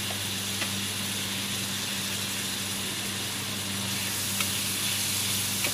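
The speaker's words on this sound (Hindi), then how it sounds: "घी मेरा गर्म हो गया, अब उसमें जो परवल घिस के रखे थे और परवल डाल के उसको भूनते हैं।" Grated parwal (pointed gourd) frying in hot ghee in a kadhai, a steady even sizzle over a low background hum, close and unbroken throughout.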